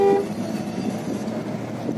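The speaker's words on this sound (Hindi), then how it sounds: "सॉरी, ये वाला जो हॉर्न है ये स्टॉक है" A Nissan Kicks petrol SUV from 2019 sounds its stock double horn, one short loud honk at the start giving way to a steady background of vehicle and road noise.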